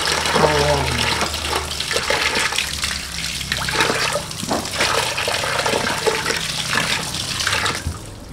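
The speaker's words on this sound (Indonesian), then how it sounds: "Kita cuci rumputnya biar bersih." Grass rinsed under a running tap while preparing food at a mosque, a loud steady gush of water with splashing from handling, close by, with voices talking underneath.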